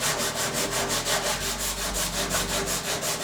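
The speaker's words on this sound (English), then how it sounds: "just start rubbing down the patch that you put in there" Wet and dry sandpaper rubbed back and forth over a gelcoat patch in a quick, even rhythm of about four strokes a second, close and steady with no talking.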